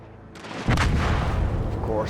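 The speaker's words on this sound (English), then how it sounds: "Of course, I instantly explode." A warship blows up under artillery fire in World of Warships Legends, a sudden heavy blast followed by sustained loud rumbling and crackle, close and dominating.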